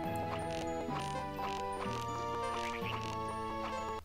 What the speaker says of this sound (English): Where are the birds coming from?